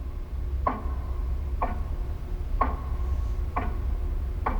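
A clock ticks steadily, about one tick per second, each click crisp and close against a low background hum.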